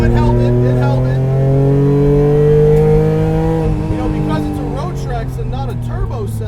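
A 700 hp supercharged Acura TL driven hard on a race track, its engine drone holding steady and then shifting in pitch with faint blower whine, loud and close inside the car, with no clear talk.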